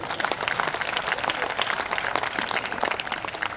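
A crowd at a kavi sammelan poetry gathering in Udaipur breaks into dense, lively applause, steady and fairly loud throughout with a few voices mixed in.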